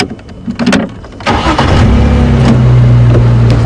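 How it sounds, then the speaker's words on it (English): A safari vehicle's engine turns over and settles into a steady, low rumbling idle in low range, close by, after some brief clicks and rustling, at a game reserve. "put the car into low range so the engine makes a lot less noise"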